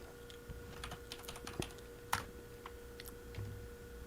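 Someone types on a computer keyboard while setting up a mute-mic shortcut, producing light, irregular clicking keystrokes close to the microphone with a few sharper taps.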